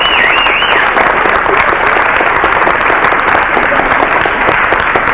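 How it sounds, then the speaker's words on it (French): Audience applause at a concert, dense and continuous clapping from a large crowd filling the hall, loud and even for several seconds, with a faint whistle early on. "On peut l'applaudir"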